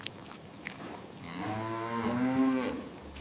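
Dairy cows on a farm moo in a long, loud, drawn-out call that swells and fades, over faint farmyard background and a few soft thumps; no one speaks.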